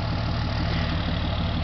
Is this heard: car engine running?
yes